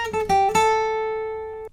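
Guitar picks the opening notes of the intro riff from a song, three quick close plucks and then a held note that rings out and fades, alone with no voice.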